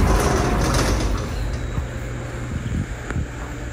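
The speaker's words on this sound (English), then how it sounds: "if you have the AC on, which hopefully you can hear right now, it will automatically shut off if you open the door" An air conditioner running in a resort hotel room in Panama: a steady broadband whooshing hum that fills the room and continues without a break, with no talking.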